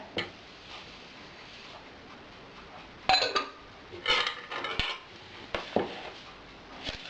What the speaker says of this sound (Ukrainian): І це все перемішую.